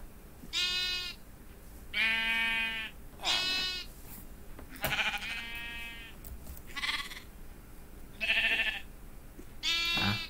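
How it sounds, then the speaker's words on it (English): Sheep in the Minecraft survival game bleat repeatedly, about seven separate wavering calls spaced a second or two apart, clear and close with no speech over them. "These two make a gray sheep?"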